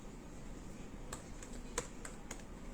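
A handful of sparse, separate key presses on a MacBook 15-inch keyboard during screen repair testing, light clicks spaced irregularly over a steady low background hum.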